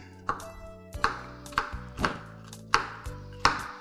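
A knife chopping an onion on a board, seven or so crisp, evenly spaced thuds close by, each with a brief ring, no talk.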